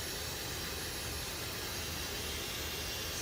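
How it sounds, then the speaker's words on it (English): A Dyson heat gun running on its high heat setting, a loud, steady, unbroken blowing hiss that fills the whole moment without change. "got the heat gun out. It is the mighty Dyson again. So pump it up to high level heat."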